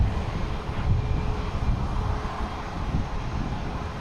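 An American Airlines Embraer E-175 jet takes off at Boston Logan, a steady, dense low roar of engines with a faint whine, heard from a distance with some wind noise and no talk.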